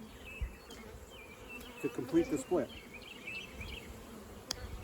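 Honeybees hum steadily at a hive being split, with foragers returning, a close continuous buzz throughout and a few louder passes; someone speaks briefly over it.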